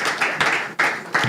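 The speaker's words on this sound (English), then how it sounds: "Please give a round of applause again for our management team." An audience claps for a management team at a fund launch and media event, with short bursts of applause rising and falling in a few waves across a brief moment.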